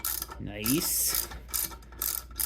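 Ratchet wrench clicking while removing a stud on a Z31 Nissan 300ZX Turbo engine block, short close bursts of ratcheting with a brief mechanical whirr and faint background noise.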